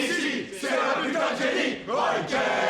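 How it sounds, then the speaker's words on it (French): A stadium crowd chanting a song for Roy Kent, a dense roaring mass of voices rising and falling in waves, loud and continuous. "tout le stade entonne le chant dédié à Roy"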